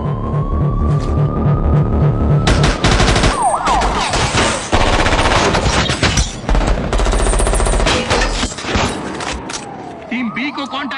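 Heavy automatic gunfire in a Hindi-dubbed action movie scene, with continuous loud bursts mixed with sirens, rumbling effects and music over about eleven seconds, no clear speech.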